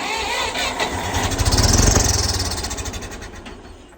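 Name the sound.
engine cranking and starting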